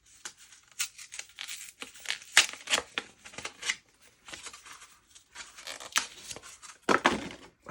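Plastic packaging comes off a part of a Dyson V15 Detect Extra vacuum cleaner, making repeated close crinkling, tearing and rustling bursts at an uneven pace, with no one speaking.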